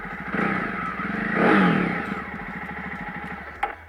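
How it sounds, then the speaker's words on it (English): A Jawa 42 motorcycle's engine revs up to a loud peak and then eases back, its throaty twin exhaust rumbling steadily and close by. "The sound from the bikes, the twin exhaust, they seem to work very well."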